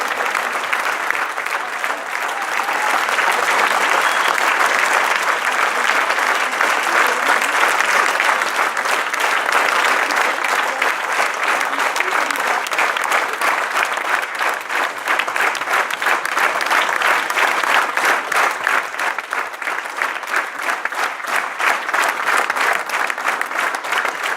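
A standing audience at a UNESCO celebration in Grasse claps loudly and continuously for more than twenty seconds, a dense, even roar of many hands with no speech.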